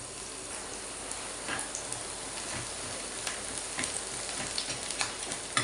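Chopped onion fries in a pan for a masala paste, giving a soft, continuous sizzle and crackle with occasional stirring sounds close by.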